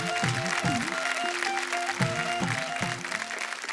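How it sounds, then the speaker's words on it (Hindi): An audience claps on a folk singing reality TV show for a singer named Kailash. The moderately loud, steady applause runs throughout, mixed with tonal music playing at the same time. "कैलाश जी के लिए जोरदार तालियां हो जाएं"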